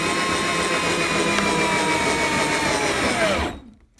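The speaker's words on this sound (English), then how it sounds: "We're ready to drive the second screw home." A power drill drives a soap-coated screw into wood, whirring at a steady high pitch for about three and a half seconds before cutting off abruptly, close and without talk.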